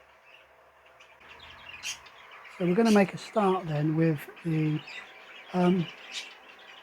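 Baby budgies and fifes chirp and tweet faintly in the background, quick scattered calls, while someone speaks over them.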